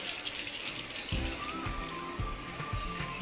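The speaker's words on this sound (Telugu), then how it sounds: "కొంచెం వాటర్ వేసుకుంటున్నానండి." Water pours steadily with a splashing, trickling rush into a pot, close by, with a few soft clinks underneath.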